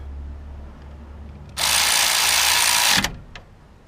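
An AC Delco 3/8-inch cordless ratchet loosening a bolt: a loud, steady electric motor whine bursts in for about a second and a half, then cuts off, with faint clicks before and after.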